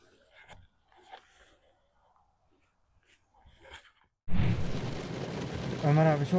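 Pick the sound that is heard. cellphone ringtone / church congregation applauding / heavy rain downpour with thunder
heavy rain downpour with thunder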